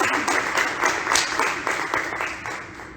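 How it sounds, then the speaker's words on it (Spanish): An audience at a literary marathon event in Aspe applauds for about three seconds, a dense, steady clapping that fades slightly toward the end. "Vamos a despedirla con un aplauso"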